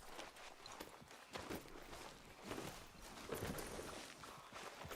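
Horse hooves clip-clop at a steady walking rhythm in the Red Dead video game, quiet and moderately close, with repeated regular hoofbeats and no talking.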